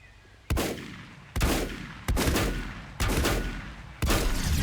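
Five separate loud gunshots sound in the video game Volcanoids, spaced roughly a second apart, each a sharp blast followed by a rumbling decay.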